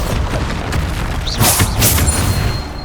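A Bombarda blasting spell going off in Hogwarts Legacy, a loud booming burst with a rumbling low end and a swooshing magical whoosh, brief and close.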